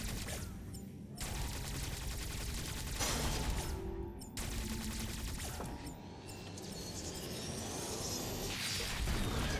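Omega Blaster firing in the video game Metroid Dread: heavy, sustained blasts with whooshing bursts and mechanical whirring, loud and layered, fading briefly between surges.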